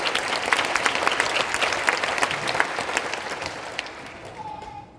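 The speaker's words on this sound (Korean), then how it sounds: "뜨거운 박수입니다" An audience at a Korean War anniversary prayer service applauds honored war veterans with sustained, dense clapping that gradually thins and fades toward the end, leaving a faint tone.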